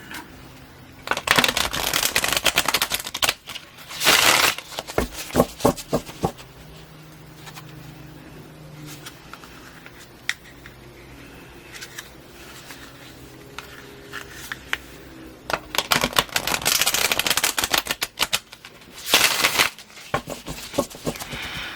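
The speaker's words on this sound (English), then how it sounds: "I won't shuffle these cards too much on camera." Tarot cards being shuffled in several crisp, riffling bursts, with quieter handling and soft rustles in between, close up.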